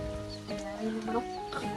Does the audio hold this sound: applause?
no